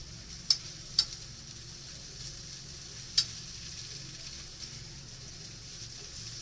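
Pad thai is stir-fried Japanese style, seasoned with soy sauce and sugar instead of fish sauce and no tamarind, giving a quiet, steady sizzle broken by a few sharp utensil clicks, with no talking.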